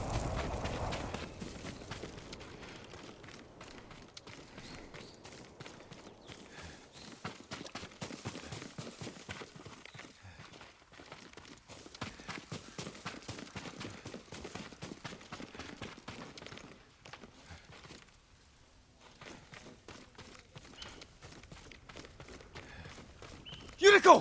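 Horse hooves clip-clop faintly and steadily in the Ghost of Tsushima video game, a quiet continuous walking rhythm under the game's soft background ambience, with a brief louder burst at the very end.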